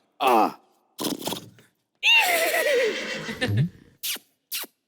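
A person imitates a horse, giving a long wavering neigh and whinny between short vocal bursts and breathy sounds, close and loud with gaps of silence.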